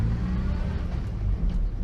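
Inside a Morris Minor car on a test drive, a continuous low engine rumble and road noise fill the cabin, rising slightly as it accelerates, with no voices.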